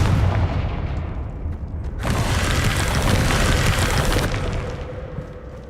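A Confringo blasting spell in the Hogwarts Legacy video game erupts in a deep booming explosion, a loud sustained burst of rumbling debris and crackle that swells and then slowly fades.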